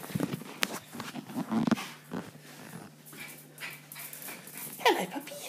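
A dog whimpers in soft, high whines and pants quickly at close range in a home, with shuffling footsteps and scattered bumps around it, fairly quiet overall.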